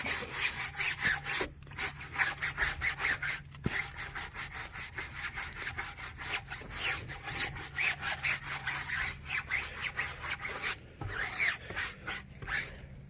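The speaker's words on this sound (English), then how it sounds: "then I take my my tire brush and just scrub around." Stiff tire brush scrubbing the wheel of a 2020 Dodge Charger Hellcat Widebody, rapid rhythmic back-and-forth bristle strokes in quick bursts with brief pauses, close and fairly loud, no speech.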